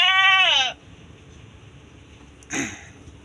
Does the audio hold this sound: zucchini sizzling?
no